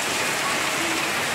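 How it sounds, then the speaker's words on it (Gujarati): Heavy torrential rain pours down in a dense, steady hiss, close and loud throughout, with no other sounds standing out. "અત્યારે જે વરસાદ પડે છે ને ગજબનો"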